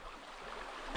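A shallow river flows past in a Konkan village on a winter morning, a soft, steady trickling and gurgle of moving water, close by and quiet, with no talking.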